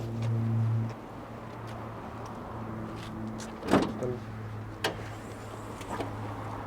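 Hood of a Toyota JZX100 Chaser swung open over its engine bay, giving a sharp close clunk followed by a lighter knock, over a steady low hum and quiet background.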